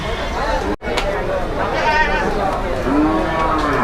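Cattle lowing among a busy crowd at a large Qurbani livestock market in Ashulia, with a low drawn-out moo standing out late over constant chatter and market bustle.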